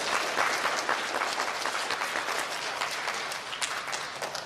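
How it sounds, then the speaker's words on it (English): A crowd of elementary school students and guests applauds at a student recognition ceremony, dense continuous clapping from many hands, holding steady and tapering slightly toward the end. "Let's give our good bus behavior students a round of applause"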